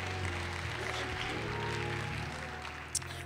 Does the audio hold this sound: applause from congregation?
yes